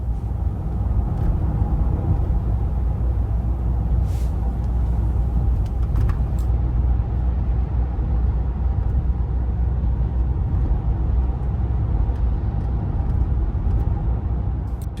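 A car rumbles steadily along as it moves onto a motorway slip road near Gatwick Airport, a constant low engine and road drone with no voices.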